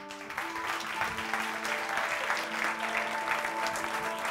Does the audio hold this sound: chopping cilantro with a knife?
no